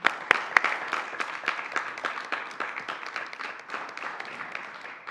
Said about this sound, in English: let's go ahead and give them a round of applause in their absence